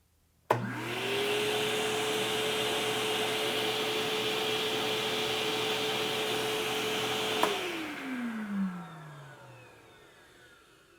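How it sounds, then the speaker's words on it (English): A DeWalt Stealthsonic wet dry vacuum switching on with a click, ramping up to a steady whirring hum with an airy rush, running evenly for several seconds, then clicking off and winding down with a falling pitch. "Let's turn the vacuum on"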